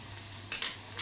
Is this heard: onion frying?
yes